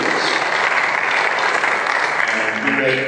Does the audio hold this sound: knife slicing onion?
no